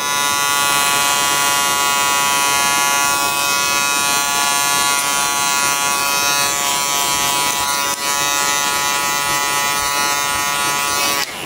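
An electric hair clipper hums steadily and loudly throughout while cutting a burst fade haircut, a continuous close buzz with no pauses and no talking.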